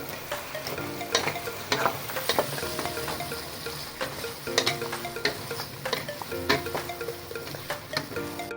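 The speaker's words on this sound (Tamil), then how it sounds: "கத்திரிக்காய் முருங்கைக்காவும் நல்லா எண்ணெய் கூடிய நல்லா வதங்கணும்" Brinjal and drumstick pieces being stirred and fried in oil for a prawn and sambar lunch, a steady oily sizzle broken by repeated scraping strokes of a spoon against the pan, fairly quiet with no talking.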